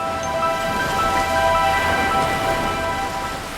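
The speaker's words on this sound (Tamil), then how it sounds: "நீங்கள் இந்த கடலை பாருங்க" Sea waves washing on the shore form a continuous, even rushing noise throughout, fairly loud and steady, with faint sustained tones beneath.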